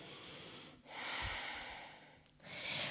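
Breathing during a fast weights and yoga fusion workout: two or three long, audible breaths through the nose and mouth, close to the microphone, each airy inhale or exhale lasting about a second, with no speech.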